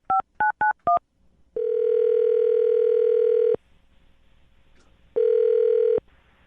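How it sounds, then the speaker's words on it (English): Telephone keypad tones beep four times in quick succession, then a steady ringback tone sounds for about two seconds, pauses, and sounds again, loud and clear with no talking. "I'm going to dial the phone number right now, get him on the phone"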